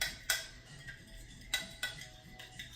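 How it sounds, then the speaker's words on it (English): A spoon stirs a sauce for a beef bowl in a pot, with soft scraping and several distinct metallic clinks at irregular moments over quiet background noise. "So I'm just going to use a spoon and get this stirred together real quick."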